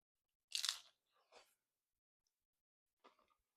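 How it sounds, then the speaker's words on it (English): A bite into a game-day chicken slider topped with shredded cheddar, guacamole, cilantro and pickled jalapeños gives one loud, close crunch, then a softer chew and a faint munch a moment later. "Let's go for the bite."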